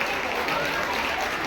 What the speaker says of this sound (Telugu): అందరూ కూడా పిల్లలకి చప్పట్లు కొట్టాలి దగ్గరగా